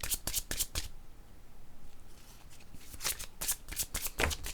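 Tarot cards shuffled in quick riffling bursts, a cluster of sharp flutters, a quieter lull, then more bursts near the end, close and fairly soft.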